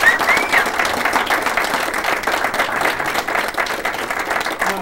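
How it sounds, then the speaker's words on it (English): An audience at a 1993 kinesiology conference applauds steadily, a moderately loud, continuous patter of many hands clapping, with a brief high whistle near the start. "Let's give Ed and Carol a real rousing applause for putting this all together."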